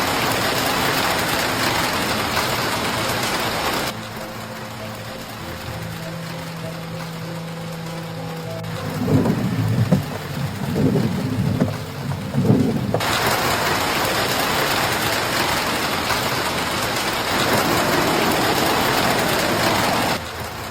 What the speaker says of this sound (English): no one can escape this brutal hailstorm